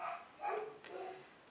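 Dogs bark in a faint, distant series of three or four yaps heard from another room or outside, muffled and low in level.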